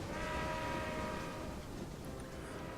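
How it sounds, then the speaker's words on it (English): Forty trains circulate on a looping roundabout track in the railway strategy game Railway Empire, a steady, continuous rail rumble with a faint sustained horn tone, no talking. "So here we are with 40 trains running on our circle."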